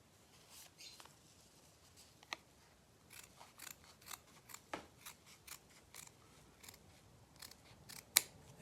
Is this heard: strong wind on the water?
no